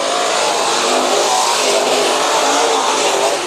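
Race cars roar around Bakersfield Speedway during a heat race, a dense, continuous engine drone at steady volume with no voices, the pack blurring into one wide sustained noise.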